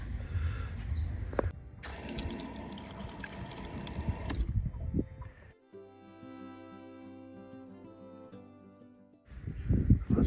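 A stern shower hose on a sailing boat, fitted with a mixer tap and trigger nozzle, gushes water in loud bursts, pauses, and sprays again, near and without talk.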